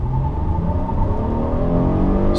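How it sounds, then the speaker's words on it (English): A 2015 Hyundai Azera Limited with a 293-horsepower engine and 6-speed automatic launches at full throttle, its engine note a steady, loud rising drone with climbing tonal harmonics heard from inside the cabin. "let's do like a full launch, and then and you'll get a sense of the Azera's performance a little bit"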